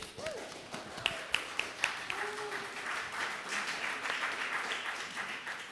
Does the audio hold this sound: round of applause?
yes